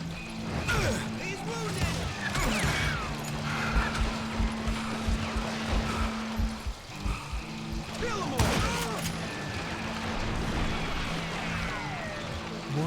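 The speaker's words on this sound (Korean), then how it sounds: "뭔 총소리가 이렇게 나노?" Western-style gunfire in the video game Call of Juarez: Gunslinger, with repeated sharp shots and cracks over a dense, busy game soundscape of music and action noise, and someone talking throughout.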